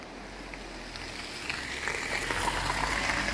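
Rushing water from a waterfall in green woods near a lookout, a steady broadband wash of falling water heard from a distance, fairly quiet and swelling slightly toward the end, with no voices.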